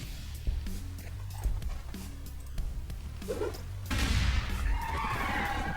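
A grenade explodes in the Warhammer 40,000: Gladius strategy game, wiping out a squad: scattered faint game effects and soft tonal blips lead into a sudden broad, rushing blast that swells and lingers to the end.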